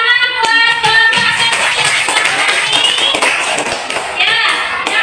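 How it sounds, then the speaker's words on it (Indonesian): Pupils in a classroom clap for a presenting group, a loud, brisk patter of many hands with sharp individual claps mixed into the steady sound, while voices carry on around it. "Dan tepuk tangan buat kelompok"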